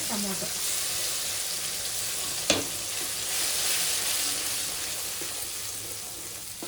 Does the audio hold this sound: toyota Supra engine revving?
no